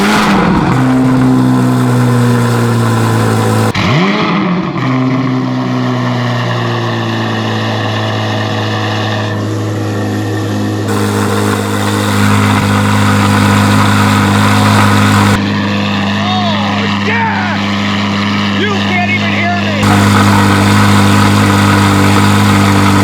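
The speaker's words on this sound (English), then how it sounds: "Still sounds like an exotic V8, which sounds nothing like a Corvette that I've ever owned" Modified Corvette V8 with high-flow catalytic converters and stock mufflers rumbles loud and close, holding a deep idle between repeated sharp revs that rise and fall in steady pulses.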